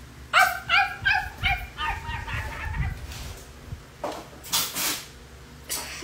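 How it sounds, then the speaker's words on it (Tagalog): A pet dog barks in a quick series of sharp yaps, then whimpers and whines between bursts, close by, with clucking fowl audible nearby and no speech. "Bantayan niyo yung aso ko"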